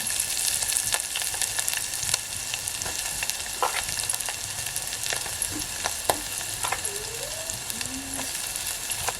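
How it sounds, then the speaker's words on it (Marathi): Garlic and goda masala frying in a pan for a fish curry, a close, steady sizzle broken by scattered pops and crackles and occasional stirring scrapes. "लसूण ब्राऊन झाले की गोडा मसाला घालते आणि फ्राय करून घेते"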